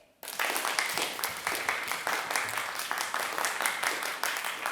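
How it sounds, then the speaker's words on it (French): Applause breaks out during a school theatre performance of Alice in Wonderland, starting abruptly after a quiet moment and continuing as dense, lively clapping from the audience. "Applaudissez."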